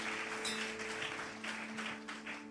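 A church congregation applauds in a soft, distant patter of clapping over a low hum, fluctuating in bursts for a couple of seconds.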